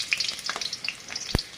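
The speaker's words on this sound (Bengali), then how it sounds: "তেল গরম হয়ে গেছে, আমি এবার সবজি খিচুড়ি রান্না করব। সবজিগুলো ভেজে নিচ্ছি।" Pumpkin, cauliflower and papaya pieces fry in hot oil for vegetable khichuri, giving a steady crackling sizzle with scattered pops and one sharp knock near the end.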